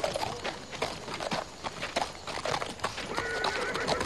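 Hooves clip-clop in an uneven rhythm on hard ground, then a horse whinnies nearby, fairly loud and clear.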